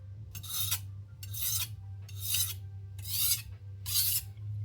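A knife is pushed along a 1,000 grit whetstone in five even, rasping strokes with short pauses between them, close and steady over a low hum.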